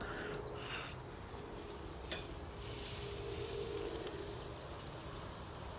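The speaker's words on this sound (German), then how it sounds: "das Skirt Steak frittiert sich quasi von selbst" Skirt steak sizzles steadily in a covered pan, a soft continuous frying hiss with a couple of faint clicks and no talk over it.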